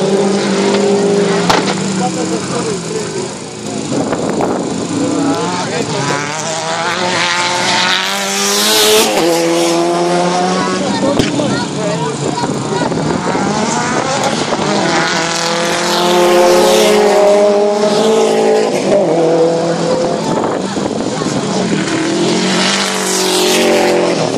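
Rallycross race cars at a final in Lovech, engines roaring and revving continuously for the whole stretch as cars pass, with tire noise and a commentator talking over the loud racing.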